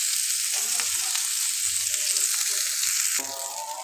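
Beef tikka cooked in spices fries on a tawa with a loud, continuous, close sizzle and a few soft scraping stirs; the hiss drops slightly near the end.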